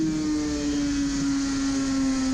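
A Suzuki RG500 two-stroke racing motorcycle screams at high, steady revs near 11,000 rpm on an Isle of Man road course, a loud continuous onboard engine whine with a slowly falling pitch and wind noise.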